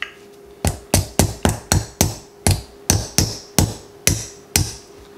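A hammer drives a soft brass rivet into a leather belt with about a dozen sharp, ringing taps in a steady, slightly uneven rhythm, loud and close, with no talking.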